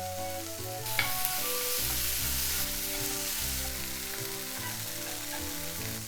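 Scallion greens frying with mushrooms and a splash of white wine in a pan for Japanese-style pasta, a steady sizzle running under continuous background music.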